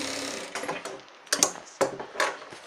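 A sewing machine stitches a shirt seam in a tailoring shop, giving short bursts of rapid mechanical clatter that stop and start several times, close and fairly quiet.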